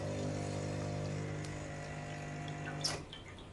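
Water rushes through the group head of a Lelit Mara X espresso machine with a steady pump hum and flowing hiss, close and even, ending with a brief splash or click.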